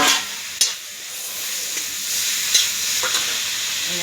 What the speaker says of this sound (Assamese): এনেদৰে ভাজিম এতিয়া।